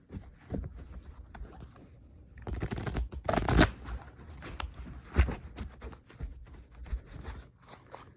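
Tarot cards are handled and shuffled by hand during a reading, producing soft papery riffles and slides in short irregular bursts, with a louder flurry in the middle and quiet gaps between.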